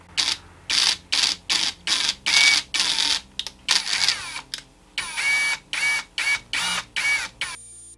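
A power drill with a 2 mm bit whirs in repeated short bursts driving a screw into a Makita trimmer adjustment knob, starting and stopping several times, close up, with longer runs toward the end.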